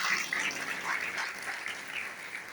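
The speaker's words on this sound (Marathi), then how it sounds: "त्यांच्यासाठी आपण जोरदार टाळ्या वाजवायच्या आहेत" Audience applause at an honouring ceremony for community members, steady clapping from a gathered crowd heard from some distance, even and continuous for a couple of seconds.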